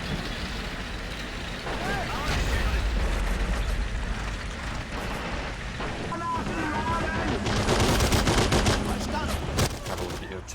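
Machine gun fire at point blank range in the war game Men of War 2, loud continuous bursts and battle noise with engine rumble underneath and a voice speaking over parts of it.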